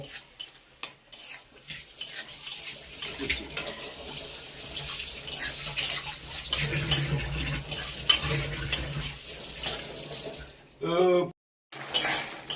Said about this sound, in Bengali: এখন এইটাতে ভালো করে নেড়ে চেড়ে এটাকেও ভালোভাবে কষিয়ে নেব।